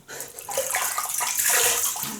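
Tap water runs steadily into a sink as a shaving brush is wetted before a Gillette Superspeed Red Tip safety-razor shave, close and continuous for about two seconds, with no voices.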